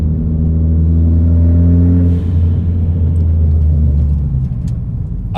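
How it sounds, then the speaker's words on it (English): A Ford F pickup truck accelerating hard, its engine a loud, close rumble with rising tones for about two seconds, then easing off into a lower, rougher drone. "I'm gonna try and make you guys hear my turbo now"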